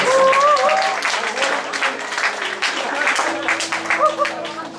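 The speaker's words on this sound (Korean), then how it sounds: "여러분들이 큰 환호와 박수로 환영해 주시면 감사하겠습니다" Crowd applause and cheering at a church college group gathering ring out loudly for several seconds, dense clapping with raised voices, while music or speech carries on underneath.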